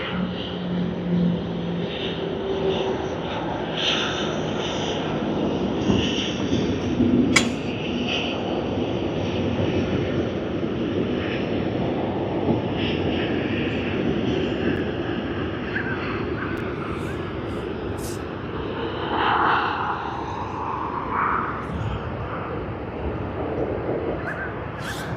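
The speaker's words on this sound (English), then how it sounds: "This is Qantas Christchurch to Sydney service. Just making its way to Terminal 1, I suppose, International Terminal." A Qantas airliner on the Christchurch to Sydney service taxis toward Terminal 1 at Sydney Airport, its jet engines a steady, fairly loud rumble that swells slightly as it passes, with airport background noise.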